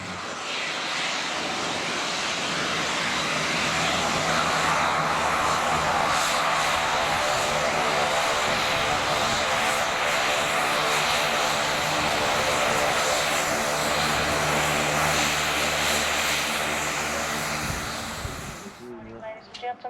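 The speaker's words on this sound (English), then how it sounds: "The aircraft that will be taking me to Sydney today is a Fairchild Metro 23." Twin turboprop engines of a Fairchild Swearingen Metro 23 airliner drone steadily and loudly from the cabin, a dense propeller hum with layered tonal whine holding for the whole stretch before cutting off near the end, a voice faintly underneath.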